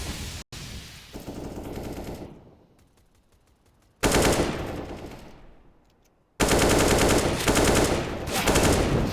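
Rifle fire in a Counter-Strike match on the Anubis map comes in loud, sustained automatic bursts, broken by two sudden silences before each bout resumes at full volume.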